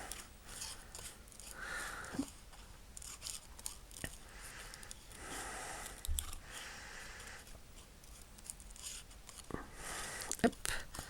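Scissors snip around a small paper witch cut from scrapbooking paper for Halloween crafts, in short close crisp bursts separated by pauses, with faint rustling of paper in between.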